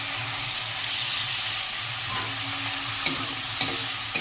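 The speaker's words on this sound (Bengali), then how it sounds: "এবার ডিমটা ভাজছি" Eggs frying with spices in hot oil give off a constant close sizzling hiss, with a few sharp utensil taps toward the end.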